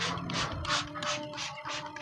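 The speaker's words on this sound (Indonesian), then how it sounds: "Semprotkan secara merata, usahakan penyemprotannya secara merata sampai semua yang becek dan dianggap bau itu tertutupi dengan larutan probiotik." A hand pump sprayer misting probiotic solution over the wet floor of a chicken coop, with repeated hissing bursts about every quarter second, close and steady.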